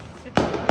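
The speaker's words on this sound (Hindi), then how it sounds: "ऐसी ऐसी इसका पटाखा जलेगा।" Firecrackers bursting during Holi-season festivities, two sharp close pops about a third of a second apart.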